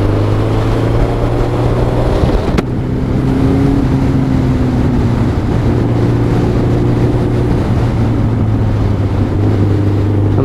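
Yamaha XJR1300 motorcycle engine under way on an open road, a steady loud droning hum with rising and falling harmonic tones as the rider accelerates, heavy wind rush throughout and no voices.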